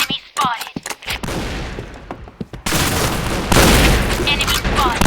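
Shotgun blasts in the video game Point Blank, loud sharp bursts in quick succession that turn into dense continuous gunfire and explosions, with game voice lines mixed in.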